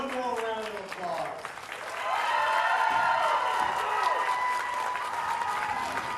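At a boys state bowling finals trophy presentation, a crowd bursts into applause and cheering that swells and holds steadily, with a public address voice heard at the start.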